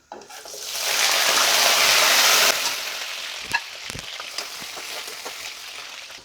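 Potatoes drop into hot oil in a pan, bursting into a loud, close crackling sizzle that peaks for a couple of seconds, then settles into a softer, steady fry with scattered pops.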